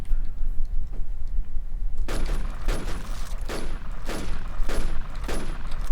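Gunfire in a shooting video game: after a quieter opening, five or six sharp, evenly spaced shots ring out about every half second, each with a short crack and tail, fairly loud against a low background rumble.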